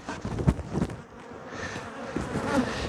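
Honey bees swarm around the beekeeper at a defensive, touchy hive, a close, continuous buzzing drone with individual bees flying by loudly, heard alone without talk.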